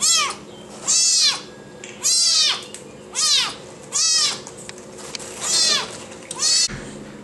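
A cat at a feline adoption center meows repeatedly, about seven loud, drawn-out cries spaced roughly a second apart, close by with faint background noise between them.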